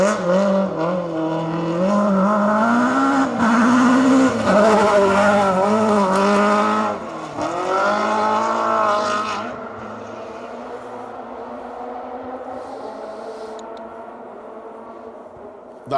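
A rally car at the 2025 RAC Rally howls past at full revs, its loud engine note climbing and dropping through rapid gear changes before fading into a distant drone.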